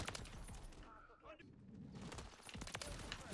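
Gunfire in Call of Duty Modern Warfare 3 multiplayer, bursts of sharp cracking shots near the start and again toward the end with a quieter lull between, mixed under player talk.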